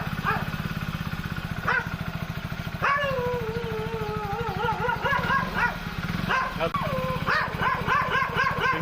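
A dog barks and yips repeatedly at close range near a forest temple town, over a steady motorcycle-like engine hum and background talk.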